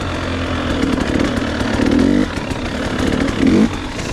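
A 2016 KTM 300 XC two-stroke dirt bike runs close and loud with a raspy drone that swells through two brief revs.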